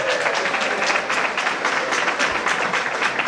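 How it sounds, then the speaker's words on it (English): A gala audience applauds host Sharon Amersu with dense, steady clapping that fills the room evenly for several seconds. "Give her a nice round of applause."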